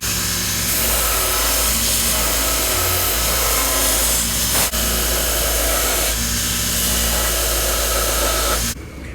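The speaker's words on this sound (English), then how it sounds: "I hog them out using a 60 grit belt" A belt grinder fitted with a coarse 60 grit belt hogs out a knife handle, producing a loud, continuous whirring roar that holds steady close by before cutting off abruptly at the end.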